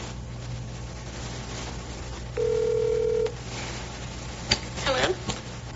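A single telephone tone holds steady for about a second, then a few brief clicks and beeps follow, all over a constant low hum while a call is placed to a father in a law-enforcement interview.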